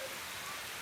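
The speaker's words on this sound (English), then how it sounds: "We're gonna go out there in the rain. It's gonna get wet." Steady rain falls outdoors as a soft, even hiss of drops on surfaces, quiet and constant with no voices.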